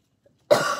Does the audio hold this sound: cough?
yes